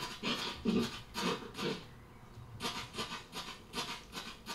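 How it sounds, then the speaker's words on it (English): A dog pants in quick, rhythmic bursts of breath, close by, in the video game Deadly Premonition, pausing briefly midway before the steady huffing resumes. "I sincerely hope that's a dog."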